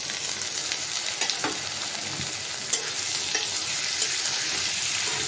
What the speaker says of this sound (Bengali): পেঁয়াজটা হালকা ভাজা হয়েছে। আমি এখন চিংড়ি মাছ দিয়ে দিলাম।